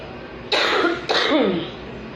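Two sharp, close coughs in quick succession, the second trailing into a throaty rasp, over quiet background hiss.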